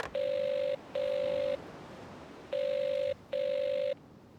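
A telephone line rings in the Evil Under the Sun video game: two pairs of steady, buzzy double-ring tones separated by a pause, loud and clear over faint background hiss.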